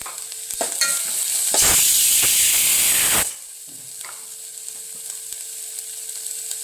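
Kathiyawadi cabbage and green chili sambharo frying in a pan bursts into a loud sizzling hiss for about two seconds, then settles to quieter crackling with occasional scrapes of stirring.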